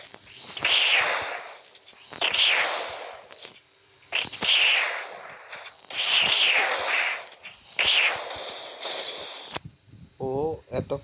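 In the mobile shooter Free Fire, the player comes under gunfire in several loud bursts of shots, each lasting about a second and spaced a second or two apart, with a voice talking between them.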